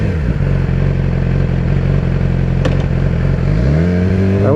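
A Yamaha R6 sport motorcycle engine idles steadily up close with a throbbing, clattery hum, then revs up near the end.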